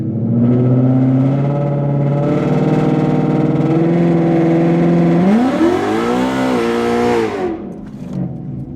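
A Ford Mustang GT at a drag strip revs loudly, holds high revs, then launches with a rising, sweeping engine note over several seconds before the sound abruptly drops away.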